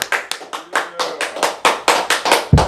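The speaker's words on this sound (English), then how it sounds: "Ladies and gentlemen, clap up for Grand Puba." Quick, even hand claps ring out in a steady rhythm, about a dozen crisp beats, loud and close.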